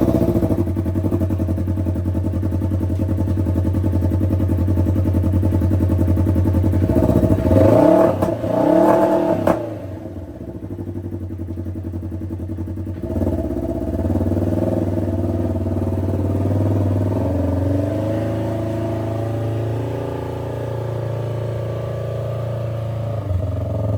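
A Polaris vehicle engine fitted with a GGB center-exit sport exhaust idles with a deep, steady exhaust drone, revs sharply a couple of times, then settles back into a rumbling idle.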